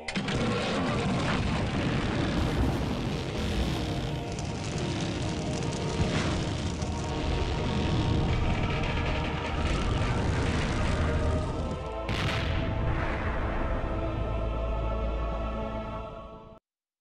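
An airplane engine in Full Throttle Remastered drones loudly and steadily throughout, a thick continuous roar with a brief surge partway through before it cuts off at the end.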